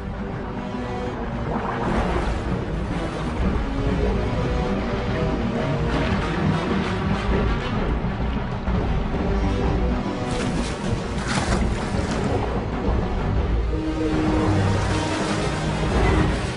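Ocean waves break on a beach in a continuous, loud, rushing roar that swells slightly and never lets up, with no voices heard.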